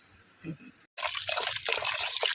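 Rice is washed in water, a brief quiet murmur first, then a sudden loud rush and swish of water churning through the grains that continues to the end.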